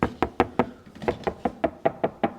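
About a dozen steady knocks on a soundproofed Tesla car door, each a dull, muffled thud in an even rhythm, close by.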